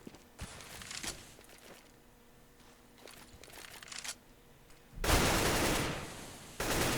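Dual Beretta pistols fire in CS:GO on the Mirage map, with scattered sharp shots followed by a loud, dense burst of gunfire near the end, set against quiet match ambience.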